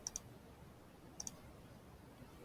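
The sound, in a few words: computer mouse clicking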